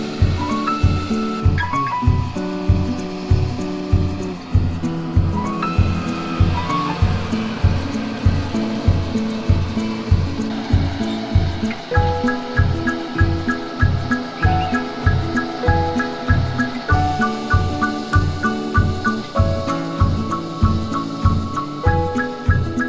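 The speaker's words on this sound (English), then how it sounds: "today we're going to be demoing the John Deere 569 Silage Special round baler in a crop of alfalfa hay" A John Deere 569 Silage Special round baler works through alfalfa hay in a field, with a loud, steady rhythmic pounding over a continuous hum. Sustained tones join in about halfway through.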